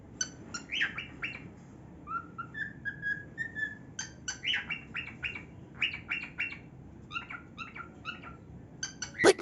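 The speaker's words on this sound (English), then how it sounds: "Now let's enjoy some of Coco's melody." A pet cockatiel sings a whistled melody close by, with a run of sliding whistled notes among sharp chirps and short phrases that come and go over a quiet room background.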